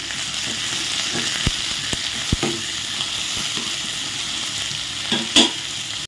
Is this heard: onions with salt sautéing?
yes